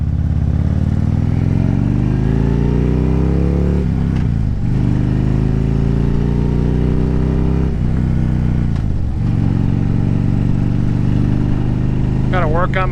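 A 2010 Harley-Davidson Street Glide Ultra pulls away and accelerates through the gears, its loud, close engine rising in pitch, dropping at each shift and climbing again, with a rider talking over it.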